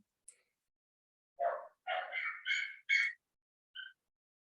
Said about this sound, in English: someone's puppy's not happy